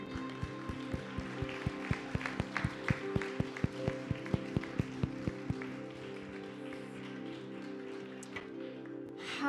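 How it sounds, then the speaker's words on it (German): A church congregation claps in a dense, lively burst of applause, with sharp claps over a sustained held organ or keyboard chord that gradually fade as the applause thins out. "Uns Jesus einen Applaus geben"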